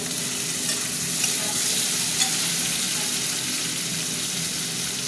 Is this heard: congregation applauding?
no